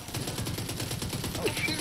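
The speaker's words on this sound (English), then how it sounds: "Freaking machine gun? Turret?" Machine gun turret fire in The Division 2, a steady fast stream of automatic shots with an even rhythm, moderately loud, heard alone for a brief burst.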